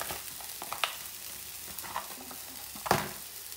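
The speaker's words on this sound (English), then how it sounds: "right, well I'm going to add the mince now" Minced beef frying in a pan sprayed with low-calorie oil, with onions already in for a bolognese; a soft steady sizzle with several sharp scraping stirs and taps, one louder clatter near the end, no talk.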